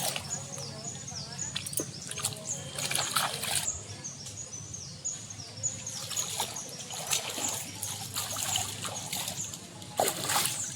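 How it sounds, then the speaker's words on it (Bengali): Water splashing and trickling as a person washes their feet outdoors in the Sundarbans, close and irregular, with a voice talking over it and birds faintly behind. "এইখান থেকে একটু পা ধুয়ে নিচ্ছি"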